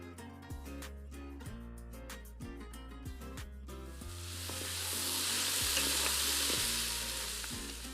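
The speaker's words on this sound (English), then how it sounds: "it's time to set it to the side and saute the veggies in olive oil" Vegetables sautéing in olive oil in a Ninja Foodi pressure cooker, a broad sizzle that rises and swells in the second half beneath rhythmic background music.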